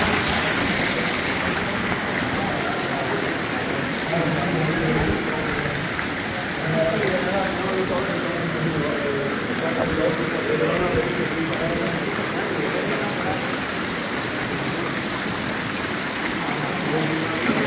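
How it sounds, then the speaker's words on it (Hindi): Water rushes steadily along a drainage channel in the Generalife gardens of the Alhambra, Granada, near fountains; the broad, even hiss holds constant throughout without pause. "पानी की निकासी के लिए बनाया हुआ है।"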